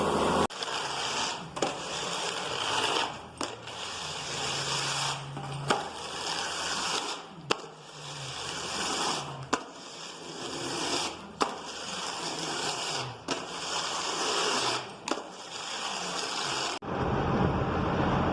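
Steady loud mechanical roar of a forage chopper running, with periodic sharp knocks and surges as it chops through corn, continuous throughout.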